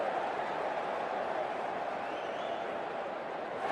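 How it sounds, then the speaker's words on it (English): Steady roar of a packed stadium crowd in the Cricket 24 video game, an even, continuous wash of distant murmur and cheering with no individual voices standing out. "It's a great crowd in today with plenty of atmosphere around this ground"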